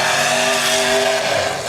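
Demolition derby car engine revving hard and continuously at close range, a loud steady roar with shifting pitch filling the whole moment, no talking over it.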